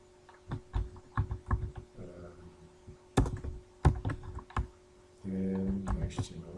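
Typing on a computer keyboard while writing HTML code: scattered clusters of quiet key clicks and taps, interspersed with brief louder thunks, with faint background sounds and some quiet voice in places.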